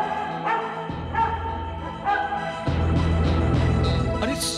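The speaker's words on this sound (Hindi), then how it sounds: "सुना तुम लोगों ने, कुत्ता भौंक रहा है, मतलब पास में ही बस्ती है" A dog barks a few times in a dramatized night scene, with short yelping calls spaced out over a sustained musical backdrop, moderately close.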